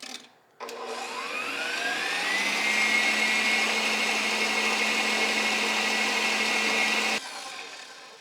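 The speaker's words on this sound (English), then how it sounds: "now we're gonna whisk our egg yolks until they're light and fluffy." Egg yolks for tiramisu beaten with an electric mixer, a loud close motor whine that spins up, holds a steady high drone for several seconds, then cuts off abruptly.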